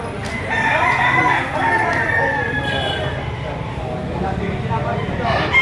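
A rooster at a Batangas market auction crows amid a busy crowd, its calls rising over constant chatter and an auctioneer's voice, with other fowl clucking nearby.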